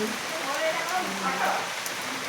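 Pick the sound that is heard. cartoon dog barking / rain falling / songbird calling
rain falling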